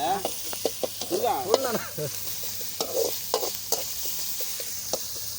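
Onions turning golden for a beef gravy crackle and sizzle in a pan, with steady stirring scrapes and clicks throughout and a brief voice speaking near the start.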